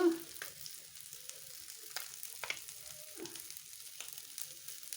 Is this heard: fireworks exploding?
no